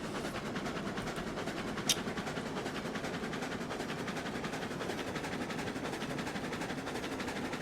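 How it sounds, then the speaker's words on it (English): A locomotive runs steadily in the video game RailRoads Online, a continuous rumbling, chugging drone at moderate level with a brief sharp click near the two-second mark. "that train certainly sounds different than it used to?"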